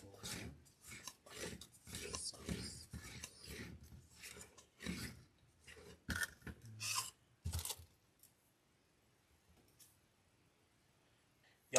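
Scissors snip dovetail ends into wreath ribbons in a run of quick, close cuts and rustling handling for about eight seconds, then near silence with one final click.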